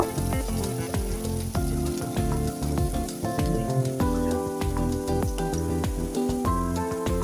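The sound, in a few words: onions frying in a pan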